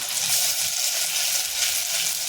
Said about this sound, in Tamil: தக்காளி போட்டுட்டு வதக்கிக்கவும்